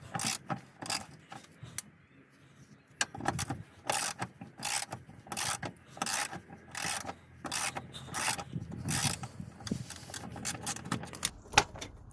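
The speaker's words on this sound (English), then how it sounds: "this is the second clamp to undo" A clamp being undone on a Toyota hand brake cable during a parking brake cable replacement: rapid close ratcheting and scraping clicks in rhythmic bursts, with a quieter stretch near the start.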